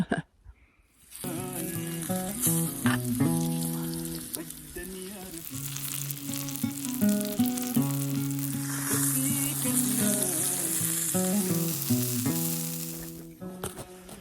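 Frozen Trader Joe's mini pancakes sizzle in a pan at a winter campsite in New Hampshire's White Mountains, a steady broadband hiss running throughout with music playing loudly over it.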